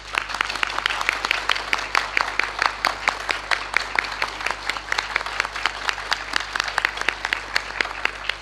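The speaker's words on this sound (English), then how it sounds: "please give another big round of applause to our honorary doctorate in chemistry, Professor Sir Harold W.Kroto." An audience applauds at an honorary doctorate ceremony, with many hands clapping in a sustained, fairly loud round that holds steady throughout, under a faint background hum.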